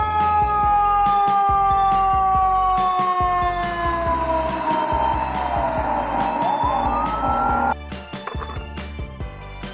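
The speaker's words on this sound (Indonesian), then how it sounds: "ini mobil pemadam kebakaran" A toy fire truck siren wails in a continuous up-and-down electronic tone, loud and close, with clicks and rattles as it cuts off near the end.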